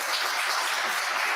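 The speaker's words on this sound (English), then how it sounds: "Applause for them, please" Dense, steady applause fills a symposium hall on cancer survivorship, an even wash of many hands clapping at once without a break.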